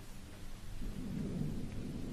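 A thunderstorm with rain outside a cheap roadside hotel: a low, heavy rumble of thunder swells after the first second and rolls on steadily over the constant wash of rainfall, with no voices.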